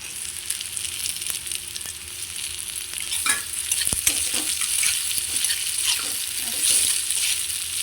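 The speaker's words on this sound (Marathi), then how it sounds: "टोमॅटो टाकायचं थोडं" Chopped tomato is sautéed and stirred in a hot pan for a stale chapati chivda, giving a continuous close sizzle with intermittent spoon scrapes and taps against the pan.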